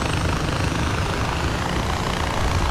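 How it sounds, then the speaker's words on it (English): Small helicopter in the video game Far Cry 4, its rotor and engine making a dense, steady roar that fills the whole short stretch with no break. "We're getting knocked all over the place in this little chopper."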